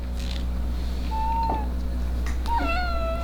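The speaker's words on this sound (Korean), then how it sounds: "왜 안 먹고 지금 달라고 그래? 안 돼. 야옹이 안 돼" A cat meows twice, close by, a rising then falling cry followed by a longer wavering meow over a low background hum.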